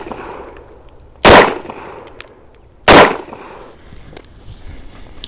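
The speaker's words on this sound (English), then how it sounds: "This is a 45 ACP Remington R1, firing 45 ACP rounds at" A Remington R1 pistol fires .45 ACP 230-grain rounds, two loud, sharp reports about a second and a half apart, each ringing briefly before fading into quiet background noise.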